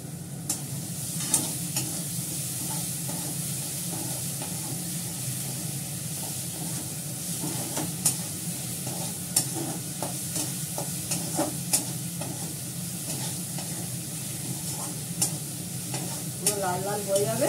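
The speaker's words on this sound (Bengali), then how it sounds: "পেঁয়াজটাকে ভালো করে কষাবো।" Onions sauté in a pan with salt, a continuous close sizzle and crackle under frequent scraping stirs of a spatula against the pan, with sharp clicks now and then and no talking.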